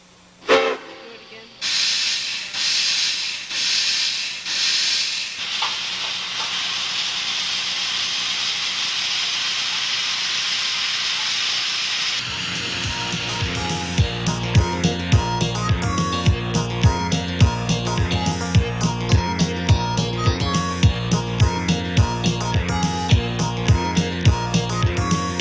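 An Eureka Springs Railroad steam locomotive hisses loudly and steadily while taking on water, then gives way to a rhythmic, clanking chuff as it starts moving, all close and dominant.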